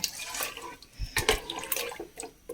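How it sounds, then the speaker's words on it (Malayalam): Tamarind water, squeezed from fresh tamarind, is poured into a pot for onion sambar, giving soft, faint, uneven splashes and trickles in short bursts. "ഇനി ഇതിലേക്ക് പുളിവെള്ളം ചേർത്ത് കൊടുക്കാം"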